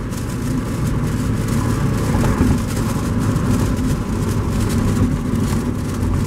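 A 2000 Mazda Miata engine pulls steadily in fourth gear on a straightaway, a loud, continuous droning hum with road and wind noise that holds a constant level throughout.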